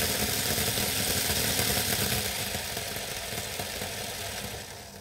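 The motor of a Mainline Class 37 model locomotive running, a dense, continuous buzzing whir heard close up that slowly fades slightly toward the end, with no talking.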